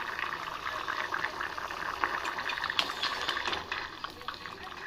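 Bottle gourd soup bubbling at a boil in a pot, a close, continuous watery burble with small popping bubbles, soft and steady, with a voice speaking over it.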